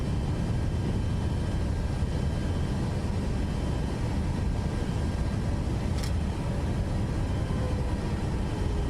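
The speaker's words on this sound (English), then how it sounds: "the sounds in this plane are really weird" Steady broadband airplane engine drone in Microsoft Flight Simulator 2024, a constant close roar with little variation and one brief faint click.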